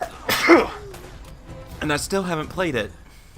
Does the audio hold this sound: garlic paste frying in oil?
no